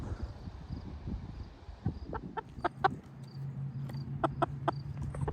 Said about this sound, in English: We've got chickens here.